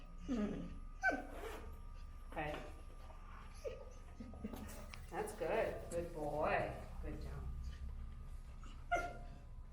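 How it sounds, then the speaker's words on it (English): Olaf, an anxious dog riding in a car on the way to a dog park, lets out several high whimpers and short whines while a person speaks calm praise over them. "you can see Olaf getting more anxious, expressed mostly through whining right now"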